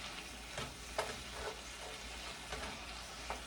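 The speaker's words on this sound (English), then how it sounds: "deglazing the pan" Faint, steady sizzling of liquid deglazing a hot pan while cooking venison stuffed peppers, with a few soft clicks and scrapes rising briefly above the frying hiss.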